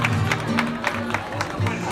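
Audience applause at an autumn evening show with the group El Pelotón Aceitunero: scattered, loosely timed claps from a crowd, with a voice and tonal sound running underneath.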